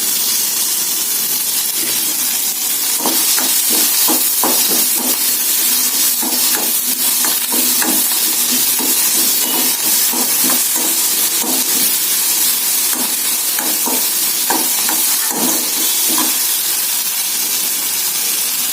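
Curry leaves and coriander frying in a pan while making mint chutney, a steady bright sizzling hiss that runs throughout, broken by brief crackles and spatters, close and loud with no talk.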